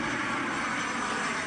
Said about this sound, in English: the occasional airplane overhead here in the flight path